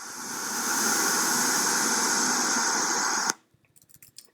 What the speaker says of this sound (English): So I'll play right now some what's called brown noise, so there's more power kind of in the low frequency tones.